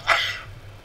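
A single short sneeze from an animated character, a sharp breathy burst that fades quickly into quiet, low background hum.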